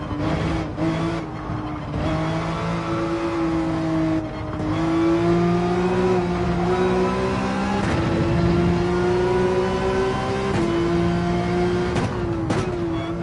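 Porsche 911 engine held at full throttle around Spa in Gran Turismo 7, a loud sustained howl climbing and shifting through gears with brief dips between, close and continuous with no talk.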